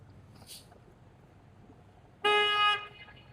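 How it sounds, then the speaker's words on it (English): A car horn blares once in Toronto street traffic, a loud steady honk lasting about half a second, after a quiet stretch of distant city noise with a faint high chirp early on. "Just for some perspective of good old-fashioned Toronto traffic"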